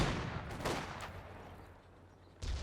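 Mortar and gunfire in Company of Heroes 2, a few sharp blasts with low rumbling between them, moderately loud and heard alone without talk.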